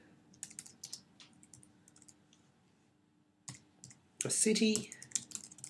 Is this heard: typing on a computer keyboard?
yes